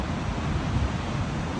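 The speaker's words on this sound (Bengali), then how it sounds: "কি পরিমাণ ঢেউ।" Rough waves on the St. Lawrence River make a dense, loud roar of surf mixed with wind buffeting the microphone, steady and with no voices.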